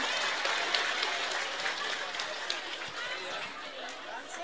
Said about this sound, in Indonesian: Tepuk tangan dulu dong buat mama